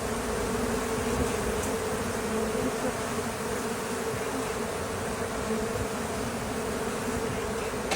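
Thousands of honeybees from a massive treetop hive in Fort Lauderdale drone in a dense, steady buzz that stays loud and unbroken throughout, with no voices.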